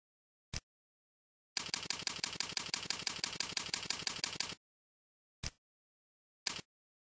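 Keys clatter on a keyboard as a recipe name is entered: a single tap, then a quick three-second burst of rapid, even keystrokes, followed by two more isolated taps, each crisp and close against silence.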